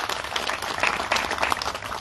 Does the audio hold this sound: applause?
yes